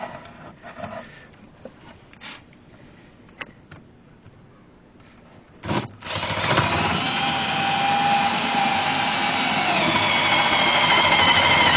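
Power drill boring a hole in a C4 Corvette during a nitrous and fuel line install: a quiet stretch with small clicks, then a sudden loud, steady whine that runs on without a break.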